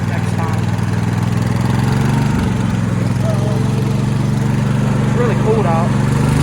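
A fast-built Dynamark lawnmower engine runs steadily and loudly close by, a constant low throbbing drone that lasts the whole time, while a voice speaks briefly over it.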